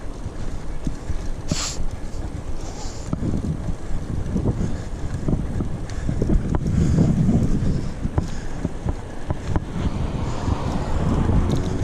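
Steady wind buffeting the microphone during a trail bike ride through a nature reserve, a continuous rumbling roar with occasional gusts and small rattles, no talking.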